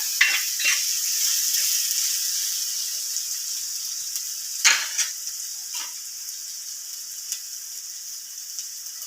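Crushed ginger and garlic sizzle steadily in a hot pan, a continuous bright hiss with a few sharp stirring scrapes near the start and middle, close and alone with no voices.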